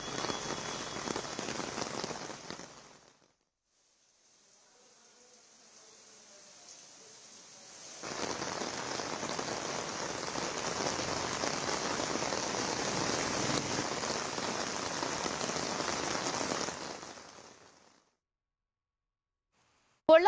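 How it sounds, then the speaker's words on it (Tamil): Heavy rain pours down at night in Coimbatore, a dense continuous hiss of drops on surfaces that breaks off briefly, returns faintly, then surges back loud and steady before cutting out. "கோவை மாவட்டம் முழுவதும் பரவலாக இரவில் சுமார் 1 மணி நேரத்திற்கும் மேலாக கனமழை கொட்டி தீர்த்தது."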